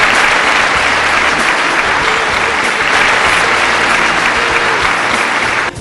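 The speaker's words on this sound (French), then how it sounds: "Dans le chapiteau de Fontevieille, les applaudissements ont fusé." Sustained applause inside the Fontvieille marquee at an IAAF athletics gala, a dense, loud, steady wash of many hands clapping that drops away at the very end.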